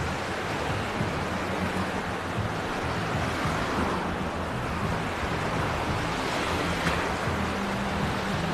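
Rough sea surf washes onto a beach at Gündoğdu in a continuous broad roar, with wind buffeting the microphone and no voices.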